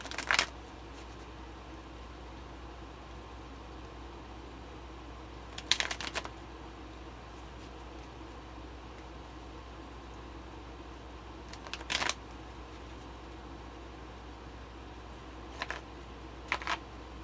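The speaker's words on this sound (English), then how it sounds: "Now I'm going to go shuffle the cards" Tarot cards shuffled by hand in a few short, separate bursts of riffling, close and fairly faint, with long quiet gaps and no voice.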